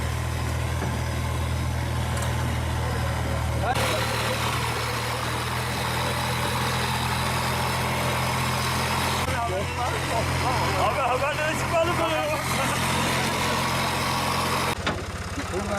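A tractor engine idles steadily for the whole stretch, a low, even rumble close by, while people talk over it.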